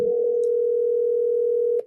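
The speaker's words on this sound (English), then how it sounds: "it's ringing too long" A telephone call rings on the line as a single steady ringback tone lasting nearly two seconds, loud and clean, then cuts off.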